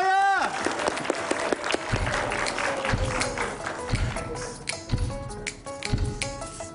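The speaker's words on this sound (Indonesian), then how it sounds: "Tepuk tangan buat Naya." Studio audience applauding for a girl named Naya on a television segment, with scattered claps and taps over a backing music bed, a host's voice heard briefly at the start.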